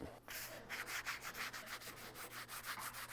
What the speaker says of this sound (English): each strip has to be sanded because our shear leaves a small burr that can cut you on each strip